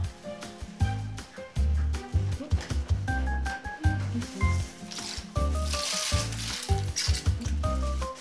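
Meat sizzles while frying in a pan, a soft crackling hiss running under louder music with a strong bass beat.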